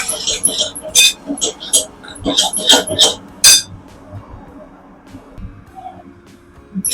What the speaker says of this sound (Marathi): आता मसाल्याला आपण हे परतून घेणार आहोत